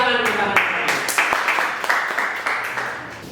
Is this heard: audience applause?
yes